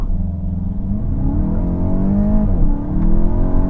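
A 2025 VW GTI with roughly 240 horsepower launches hard from a torque-brake start, its engine note rising steadily and loudly through the revs for several seconds, close up and without talk.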